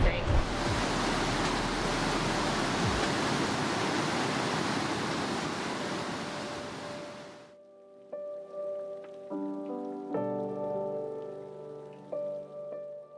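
A loud, dense roar of falling water from a 740-meter waterfall fills the first half, then cuts off abruptly, leaving faint tonal background sounds.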